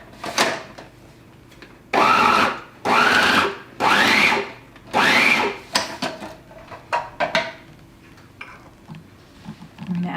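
Blender pulsing a pumpkin cheesecake mixture of pure pumpkin puree: four loud, distinct bursts of whirring motor noise about a second each, followed by faint clicks and small knocks as the jar settles.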